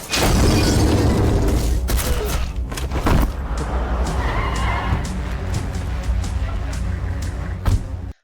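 In an action film, a car accelerates hard amid loud booms and skidding, a dense, driving roar with sharp bursts of impact that stays forceful before cutting off abruptly at the end.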